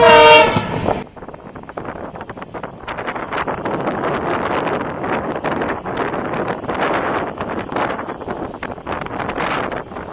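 Passenger train 15778 rolls through Jaldapara forest near Rajabhatkhawa station, a brief horn note at the start giving way to loud continuous wheel and carriage rumble with wind buffeting the microphone.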